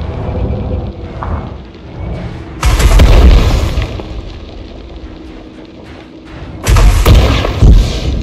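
Heavy booming blasts and explosions from weapon fire in Elite Dangerous Odyssey, two loud deep bursts separated by quieter rumbling stretches, close and forceful.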